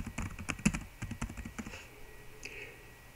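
Quick, uneven clicks of fingers on a computer keyboard as call signs are entered during radio software setup, close and fairly quiet, with no voice.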